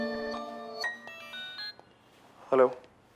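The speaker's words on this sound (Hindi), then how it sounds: "वेटर ने लाए खाने के पॉट में नोकिया का छोटा पुराना मॉडल फोन बजता है।" An old, small Nokia mobile phone rings inside a food pot a waiter has brought, playing a short run of clear electronic melody tones, near and fairly quiet, followed by a brief burst of voice.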